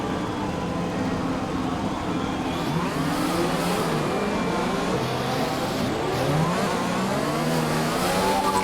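A race car engine in F1 2020 idles and revs on the formation lap, rising and falling in steady near accelerations with gear changes, continuous and loud throughout, no talk.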